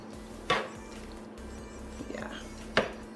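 Korean instant noodles are tossed with a spice packet in a bowl, with two sharp clinks of a utensil against the dish and softer stirring and scraping between them in a quiet room.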